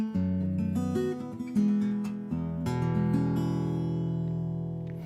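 Electric guitar with brand-new strings playing a bluesy phrase, sustained chords and single notes ringing out clearly and fairly loud, with no talking over them.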